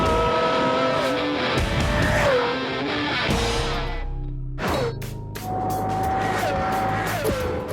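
A Pagani Zonda sports car accelerates hard, its loud engine climbing in pitch through several gear changes, with a brief lull before it pulls again and keeps revving strongly.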